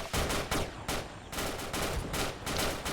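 Gunfire in a Vietnam War video game: loud, close bursts of automatic fire repeat in quick succession, with only brief gaps between the volleys.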